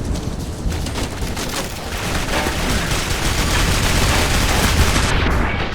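A grenade blast in the video game Clive Barker's Jericho rolls out as a loud, dense rumbling roar that stays sustained across the whole stretch.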